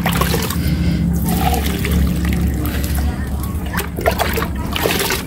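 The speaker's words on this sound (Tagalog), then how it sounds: "Magdidilig na ako at tuyo na." Water splashes and pours unevenly onto plants in bursts, with voices talking over the sloshing.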